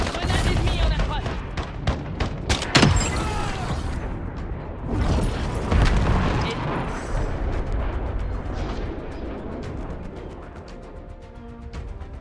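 An enemy grenade blast in a first-person shooter, a loud burst amid rapid gunfire and booming explosions that keep rolling through a dense, chaotic battle soundscape.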